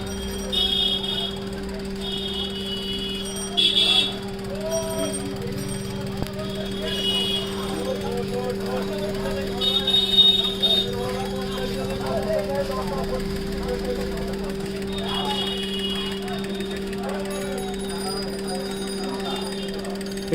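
A CT-150 injector cleaner and tester machine runs at normal speed with a steady, continuous mechanical hum and buzz, joined by a faint whirring and rattle, while someone talks over it.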